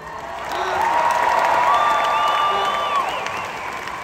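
Concert audience bursts into sustained applause and cheering at a show in Indianapolis, a dense steady wash of clapping with a few shouts, loud and continuous from start to finish.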